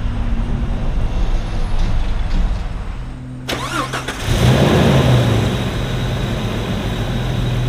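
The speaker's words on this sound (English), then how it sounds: "we're gonna turn the Jeep back on and run it in and out a few times" A Jeep engine cranks and catches at about three and a half seconds, then settles into a steady idle up close, with a constant mechanical hum running throughout.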